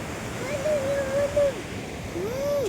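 A steady roar of surf rolls on continuously at Payyambalam beach, with a thin, high whistling call rising and falling over it twice.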